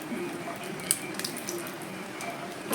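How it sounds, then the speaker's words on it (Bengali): Lentil dumplings (bori) frying in oil left in the pan after frying fish: a soft, steady sizzle with scattered small pops and crackles, quiet and continuous. "এর তেলের মধ্যেই দিয়ে দিয়েছি আমি বড়ি"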